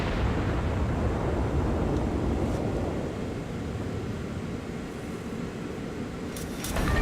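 Heavy naval shells from the battleship Amagi striking the cruiser Pensacola in a video game, a deep rumbling explosion roar that swells and fades, with sharp crackles near the end.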